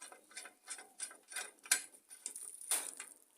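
A nut being tightened onto a mower blade bolt with a ratcheting hand tool, giving a close, quiet series of rhythmic clicks and ratchet pulls, about seven strokes, with no talking.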